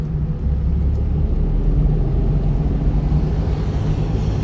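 A car engine runs during a driving lesson as a steady, loud, low rumbling drone that holds constant throughout, heard from inside the car with no speech.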